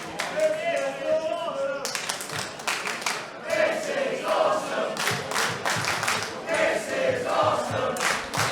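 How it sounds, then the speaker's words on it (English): Wrestling crowd applauding and cheering a match between Robbie X and Shaun Kustom, bursts of clapping and shouts beneath a commentator talking throughout. "Crowd here showing their approval of this stunning match between Robbie X and Shaun Kustom"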